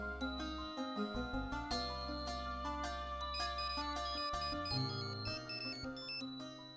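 A melodic phone ringtone chimes through a Marathi TV serial scene, a bright tinkling tune with steady repeating notes that plays loud and alone for several seconds with no talking.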